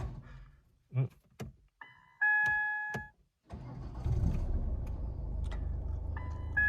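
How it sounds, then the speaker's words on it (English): A Ford Kuga's engine cranks briefly after some clicks and chimes, then catches and settles into a steady, close idle. "So let's start this car anyway and see."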